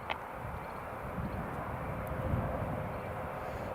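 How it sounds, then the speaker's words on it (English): A Ryanair Boeing 737-800 arriving from Barcelona on approach to land at Newcastle Airport produces a steady, broad jet engine roar, moderately distant and unbroken throughout. "Got the Ryanair 737-800 Delta Papa Hotel coming in from Barcelona, just about to land"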